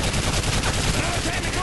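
Rapid, heavy gunfire in the Call of Duty Modern Warfare 3 campaign, a dense loud burst of overlapping shots filling the short moment without pause.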